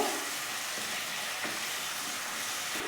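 Masala with kasuri methi frying in a pan for a Bengali doi paneer, giving a steady, loud broadband sizzle with faint stirring scrapes throughout and no talking.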